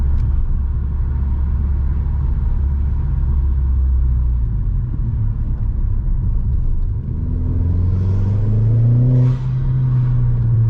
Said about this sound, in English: that induction kit, what a sound it makes.